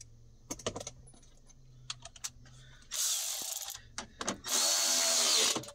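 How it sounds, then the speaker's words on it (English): Screws on the battery lid of a 2019+ Mercedes Sprinter 907 van being tightened with a power driver: scattered close clicks and taps, then two loud whirring bursts, each lasting about a second or more. "Tighten our screws back down"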